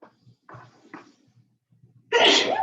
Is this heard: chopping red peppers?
no